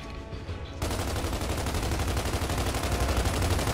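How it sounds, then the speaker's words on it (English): Rapid bursts of gunfire in Gears of War 2 as bottles are shot, starting abruptly after a quiet moment and continuing as dense, loud, rattling shots with no voices. "Shooting bottles reminds me of being a kid"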